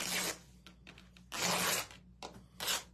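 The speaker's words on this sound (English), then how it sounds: "it's not going to tear perfectly" Buffalo plaid fabric torn by hand in three ripping bursts, each a dry broadband rasp with quieter rustling and handling between them, close and alone.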